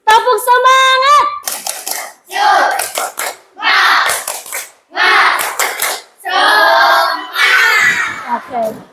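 A group of children performs the tepuk semangat clapping chant, bursts of rhythmic hand claps alternating with shouted chanting in short loud phrases, close and energetic, with a voice leading at the start.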